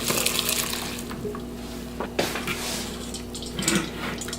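Water from a pot of blanched green vegetables pours and splashes into a sink, a steady hiss of running liquid with a few louder gushes and drips, heard alone.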